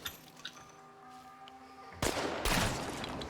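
Enemy gunfire erupts in Chernobylite, with a loud burst of rapid shots cracking out after a quieter stretch of humming ambience, then a second heavy volley close by.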